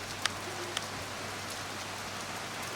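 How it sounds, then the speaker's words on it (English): Southern afternoon rain falls steadily as a broad, even hiss, with a few sharper drops striking near the start. "Then it started raining, the good southern afternoon rain and the heat."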